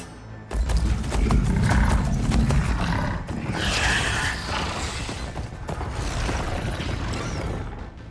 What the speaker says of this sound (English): They're riding machines!